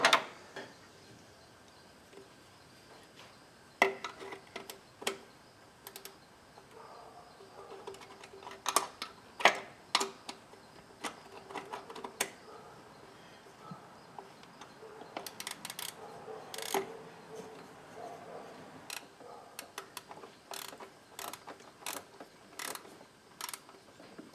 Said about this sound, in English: Just now we'll tighten up those back bolts.